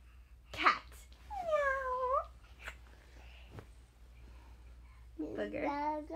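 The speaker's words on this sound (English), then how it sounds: "Kitty cat. That's like our kitty cat." A cat meows twice, each a drawn-out, rising and falling cry a few seconds apart, while people talk nearby.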